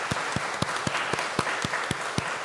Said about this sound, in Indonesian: Mari kita memberikan tepuk tangan.